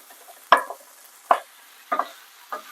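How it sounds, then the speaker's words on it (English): Ackee is added to a cooking pot, with four soft separate plops and clatters spaced roughly evenly apart against a quiet background. "For now, I'm going to add the ackee."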